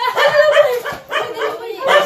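A dog barks and yips repeatedly at close range in quick, whiny bursts, with a brief pause between groups.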